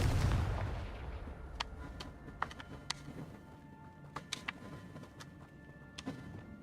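The Confringo blasting spell goes off in the video game Hogwarts Legacy, a heavy explosive boom at the start fading into a rumble, then scattered sharp cracks and pops at varying distances.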